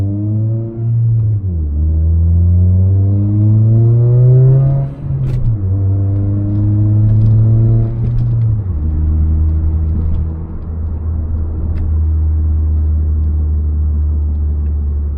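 A turbocharged Toyota Corolla pulls hard through the gears, engine note climbing steadily, dropping at a shift near five seconds and again around eight, then settling into a loud, steady drone; close and without talk.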